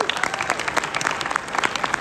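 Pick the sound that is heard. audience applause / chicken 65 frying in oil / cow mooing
audience applause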